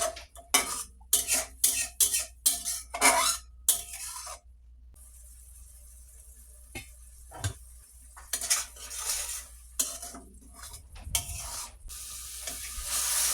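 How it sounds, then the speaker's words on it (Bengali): Spice masala stirred and fried in a pan while cooking gourd with bata fish, with a run of clinking utensil scrapes against the pan, then a soft sizzle and occasional taps and scrapes. "এরপর নেড়ে চেড়ে মশলাটাকে ভালোভাবে কষিয়ে নিতে হবে"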